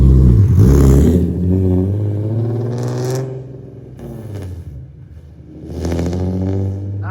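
Infiniti G37 fitted with an ISR catback exhaust and longtube headers revs loudly and up close, the engine climbing and falling through two throttle blips over a steady rumbling idle.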